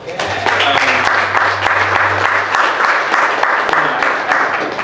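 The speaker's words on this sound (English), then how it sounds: "Round of applause for that." An audience at a Q&A session breaks into a round of applause, with individual claps standing out sharply from the dense clapping. A low hum sits under the opening seconds.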